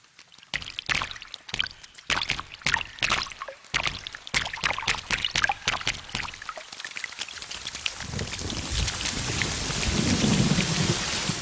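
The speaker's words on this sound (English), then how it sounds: "The first rain." Heavy rain pours down with cracking thunder, with sharp strikes and rumbles in the first half giving way to a dense, steady roar of downpour, no voices present.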